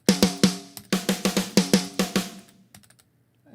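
Mix-ready drum samples played one after another, a quick run of punchy, tonal drum hits with sharp attacks and short ringing tails, fairly close and clear, trailing off into a few faint taps near the end.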